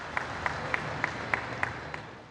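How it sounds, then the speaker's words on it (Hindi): An audience claps at a university founding ceremony where the Prime Minister is present, a light, fairly distant applause with evenly spaced louder claps over a hall ambience. "एक बार पूरा सदन ताली बजाकर टंट्या भील विश्वविद्यालय की स्थापना के अवसर पर हमारे सभी मंचासीन का हार्दिक स्वागत करें"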